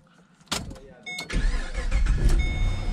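A police street sweeper cranks for about a second, then its engine catches and settles into a loud, steady mid-pitched running rumble close by, with a brief exclamation from someone nearby.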